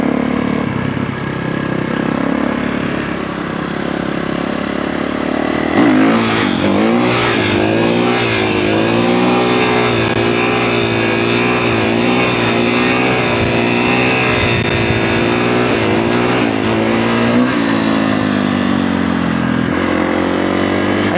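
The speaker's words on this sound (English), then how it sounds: "we're gonna go do some wheelies with it" A dirt bike engine roars close and loud during wheelie riding, idling at first, then climbing into sustained high revs with wavering pitch as the throttle rises and falls, dropping briefly near the end.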